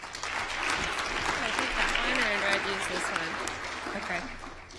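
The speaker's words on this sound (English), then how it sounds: "let's give a big round of applause for Laura Fisher." An audience at a SpaceVision 2013 Ignite talks event applauds a new speaker, sustained clapping from the crowd, with a voice faintly heard over it.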